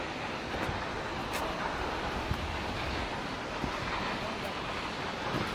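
Fungfungey waterfall in Taplejung, eastern Nepal, roaring as a steady, dense rush of falling water, loud and continuous throughout, with faint wind buffeting on the microphone.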